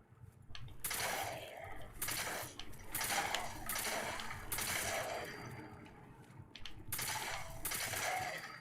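A silenced shotgun in Fallout 4 fires again and again, each shot a muffled, broad burst lasting about half a second, spaced roughly a second apart at a steady pace.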